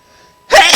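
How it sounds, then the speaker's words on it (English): A person sneezes once, a sudden loud burst close to the microphone after a half-second of near silence. "just sneeze"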